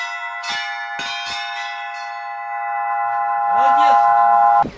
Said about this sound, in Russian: Все желающие смогли позвонить в колокола и приобрести начальные навыки церковного колокольного звона.